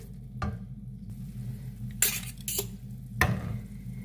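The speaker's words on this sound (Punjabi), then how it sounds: "ਆਪਾਂ ਇਹਨੂੰ ਹੌਲੀ ਹੌਲੀ ਹਿਲਾ ਖਲੂ ਕੇ ਭੁੰਨ ਲੈਂਦੇ ਆ" Ingredients for a sweet-and-sour mint chutney roasting in a pan over medium heat, with four quick metal-spoon scrapes and clinks standing out over a faint, low sizzle.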